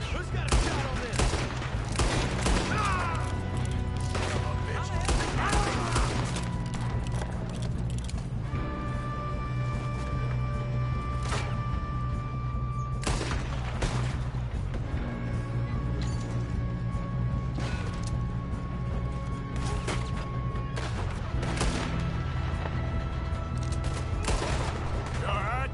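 Gunfire during a robbery in Red Dead Redemption 2, with repeated loud shots and bursts crackling across the whole stretch, mixed with mechanical clatter, crashes and game music tones, and voices shouting now and then.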